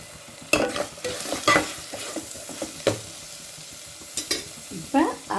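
A spoon stirring and scraping in a pan of oil heated gently over low flame, soft steady sizzle under sharp intermittent clinks of metal on metal.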